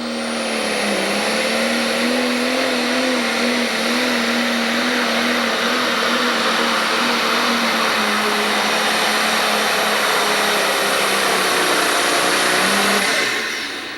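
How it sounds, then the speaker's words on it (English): A Thumper pro stock pulling tractor roars hard and steady through a pull at an Illinois tractor pulling event in Freeport, a loud sustained engine drone with a wavering pitch that holds for most of the run before cutting off near the end. "The Thumper tractor's got the green flag."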